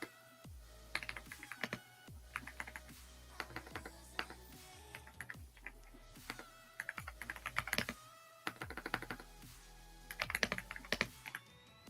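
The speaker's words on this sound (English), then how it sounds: "that keyboard. It's loud, dude." Loud computer keyboard typing in a real estate office during live cold calling, with bursts of rapid clacking keystrokes and short pauses, close and dominant throughout, no talk.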